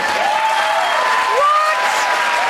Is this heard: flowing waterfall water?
no